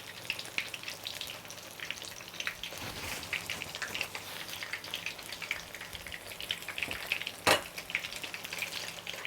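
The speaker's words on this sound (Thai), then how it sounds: "ค่อยๆทอดนะคะ ใช้ไฟไม่ต้องแรงมากค่ะ" Battered bananas deep-frying in oil over gentle heat, a steady close crackling sizzle throughout with bubbling pops and one sharper clack near the end; no talking.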